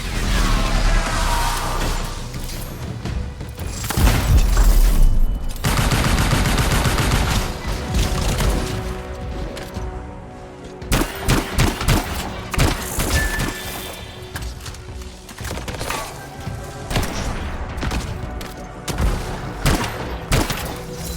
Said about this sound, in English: Time to show them that really large gun.